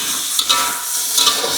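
Green beans stir-fry in a pan with cooking wine and water, giving a soft continuous sizzle and hiss with a few faint scraping stirs, no voices.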